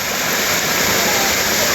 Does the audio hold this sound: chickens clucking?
no